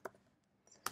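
A few quick keystrokes on a computer keyboard while writing Python TensorFlow code, two crisp taps about a second apart, close and quiet, with no talking.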